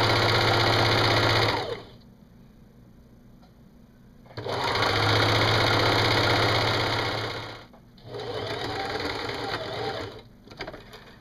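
A sewing machine runs along a t-shirt hem in three long bursts of fast, even whirring stitches, close and loud, with short pauses between them.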